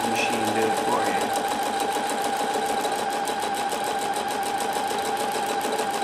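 A sewing machine stitches a long mending repair across fabric, its needle hammering in a fast, even, continuous rhythm up close, with a voice speaking over it.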